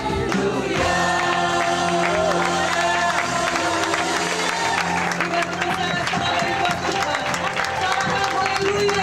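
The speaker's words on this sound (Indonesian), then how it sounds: "Sekali lagi beri tepuk tangan yang terbaik bagi Raja di atas segala raja." A church congregation claps and cheers steadily and loudly throughout, a dense wash of applause with music and voices underneath.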